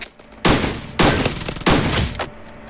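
Gunfire in the video game Free Fire: three loud, sharp shots spaced about half a second apart, each with a short ringing decay, close and alone.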